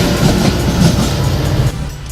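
A train rolls past close to a station, a steady loud rumble with rhythmic low clatter from the wheels that fades slightly toward the end.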